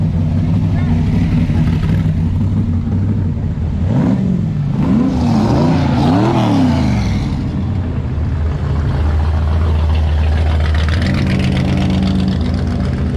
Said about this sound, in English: It's another fire truck, 1940s fire truck.